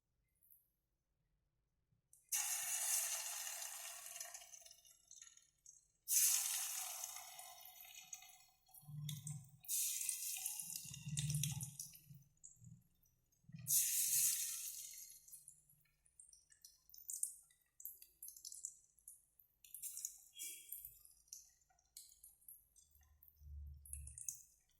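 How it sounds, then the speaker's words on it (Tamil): Chicken lollipop pieces drop one by one into hot oil, each making a sharp burst of sizzling that swells and then tapers off, repeating in separate bursts with quiet gaps and soft handling thuds between. "ஒவ்வொரு பீசஸாக எண்ணெயில் போட்டாச்சு."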